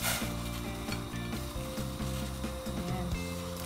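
Onion and tomato fry and sizzle in a pan, a steady close hiss broken by repeated scraping and stirring strokes, with no voices.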